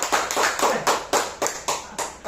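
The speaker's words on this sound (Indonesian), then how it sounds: "boleh tepuk tangan" Rhythmic group clapping at a marketing presentation, about nine sharp, evenly spaced claps in unison, close and fairly loud.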